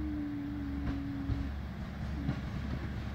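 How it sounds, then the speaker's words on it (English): ScotRail class 153 diesel railcar on the Glasgow Queen Street to Oban line idles nearby with a low, steady engine rumble, a sustained hum fading midway and faint clunks over it. "listen to the engine"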